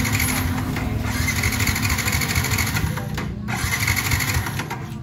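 A Yamaha Vixion NVL motorcycle with a hard-starting fault, its engine cranking and idling roughly in a steady mechanical clatter, loud and close, with a brief dip partway through.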